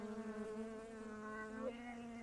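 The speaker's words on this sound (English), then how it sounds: "So the bee buzzing was driving me insane." Honey bees buzzing around a beehive, a steady close drone with wavering harmonic pitch that holds throughout without a break.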